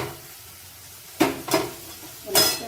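A cooking pot set down on a gas stove in a Bengali home kitchen: two quick metallic clunks close together, then a longer scraping clatter after a brief pause, close by over a quiet background.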